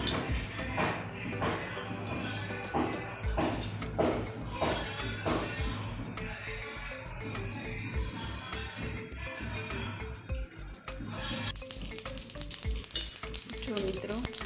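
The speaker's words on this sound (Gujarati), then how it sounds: "હવે આ તેલ આવી જાય એટલે આપણે એમાં રાઈ ઉમેરીશું." Mustard seeds sizzling and popping in hot oil in a pan, a steady crackling fry with scattered sharp pops and occasional stirring clinks, close and fairly quiet throughout.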